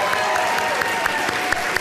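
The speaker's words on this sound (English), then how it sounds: "you have joined me in a wonderful round of applause for all of them" Audience applause at a college convocation ceremony in a large hall, steady dense clapping from many people throughout, fairly loud and close.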